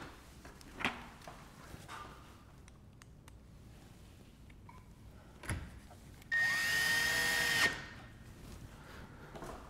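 Screw driven into a porch window frame by a power drill, a brief whirring burst of about a second after scattered knocks and handling clatter, close by in a quiet room.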